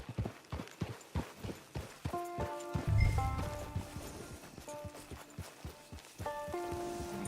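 Horse hooves in Red Dead Redemption 2 beat a steady, rhythmic clip-clop at a gallop, close and even, while soft tonal game music rises in the background.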